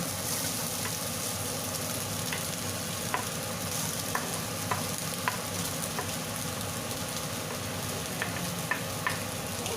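Chopped onion fries with browned beef in a pan, a continuous dense sizzle with scattered clicks and scrapes from stirring, close up and without speech.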